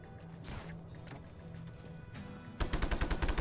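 Gunfire in the Just Cause 3 video game: a steady noisy rumble of game action breaks into a loud, rapid automatic burst near the end, with no speech over it.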